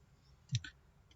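A hazard flasher relay on a DMS-102 hybrid 5-in-1 switch gives a single quick mechanical click, with a fainter second tick just after it, over a low steady hum.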